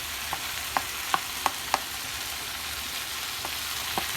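Okra (bhindi) frying in oil for bhendi batata bhaji, a constant hiss of frying with a handful of sharp spatula taps on the pan spaced through it, heard close with nobody speaking.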